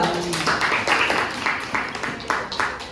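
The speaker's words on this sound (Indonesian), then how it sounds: "Tepuk tangan untuk kelompok 3." Classroom applause for a student group after a presentation, scattered clapping that rises and falls in bursts, with voices talking alongside it.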